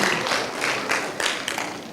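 A screening audience at a film club claps for the Congolese film Debout Kinshasa: continuous, fairly loud applause filling the room for two seconds, with no voices on top.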